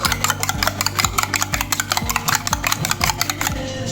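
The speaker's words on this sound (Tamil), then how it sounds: "அதை லைட்டாக அடிச்சுட்டு" A single egg being lightly beaten for prawn vada, with rapid, regular tapping strokes of a utensil against a bowl, close and fairly loud throughout.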